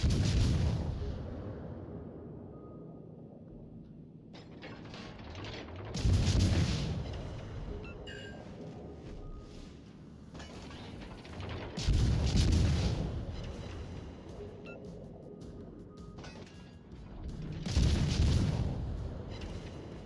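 Torpedo hits exploding in a naval video game, four deep booming blasts spaced several seconds apart, each a loud low rumble with a sharp onset that fades slowly, and no talk.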